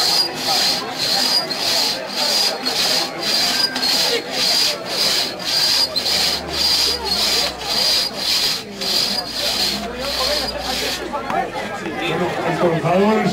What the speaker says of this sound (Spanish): destrozador es el precursor de la motosierra